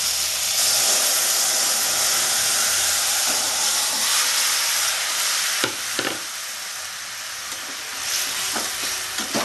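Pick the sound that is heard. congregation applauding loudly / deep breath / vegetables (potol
vegetables (potol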